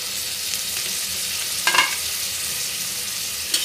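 Oil sizzling and frying in a pan while making prawn rice, a steady crackling hiss close up, with a brief stirring clatter midway and another near the end; no one speaks.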